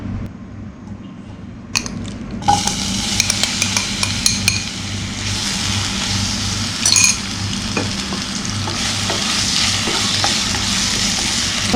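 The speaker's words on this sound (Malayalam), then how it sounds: "അപ്പോൾ നമുക്ക് ഫസ്റ്റ് പഴം വഴറ്റിയെടുക്കാം." Banana pieces sauté in ghee in a hot pan, a continuous close sizzle with a spatula stirring and scraping against the metal, sharp clinks scattered throughout and no talk.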